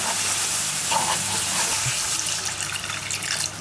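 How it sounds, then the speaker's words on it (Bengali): Ground spices such as turmeric, coriander, cumin and chili powder fry in a pan, sizzling and hissing steadily up close before the sound eases slightly near the end. "মশলাটা কষানো হোক, ভালো মতন মশলাটা কষাই নিছি"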